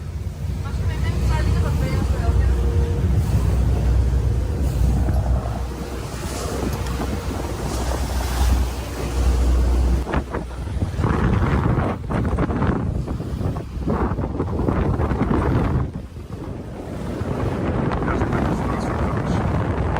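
Constant strong wind buffeting and surf from a tour boat out at sea off Hurghada, Egypt, with a loud rushing roar of waves and engine rumble under scattered speech throughout.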